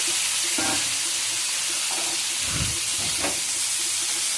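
Diced potatoes and greens are stirred in a hot pan, a loud continuous hiss with a few dull scraping thumps of the spoon, heard up close with no talking.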